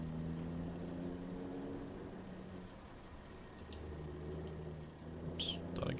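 A truck in Farming Simulator 17 idles with a steady low engine drone while high pneumatic air-brake hisses and squeals rise and fade, with a brief burst of air near the end.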